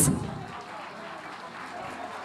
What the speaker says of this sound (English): So can we have a big round of applause?